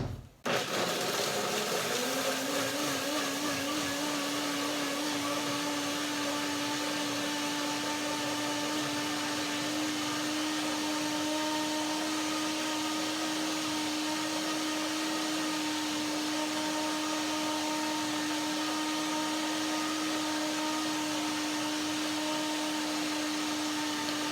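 A blender purées sweet curd with bananas and water, its motor spinning up at the start and then holding a loud, steady whine that runs for about twenty-four seconds, unbroken and up close, with no talking.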